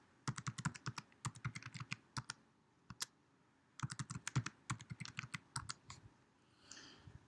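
Password being typed on a computer keyboard, with quick bursts of close, crisp key clicks separated by short pauses, heard alone without any voices.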